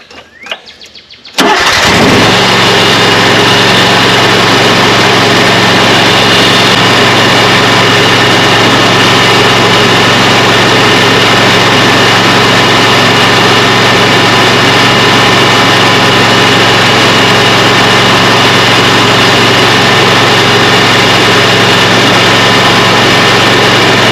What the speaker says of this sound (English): Now I'm going to fire up the motor, so it's going to be excessively noisy.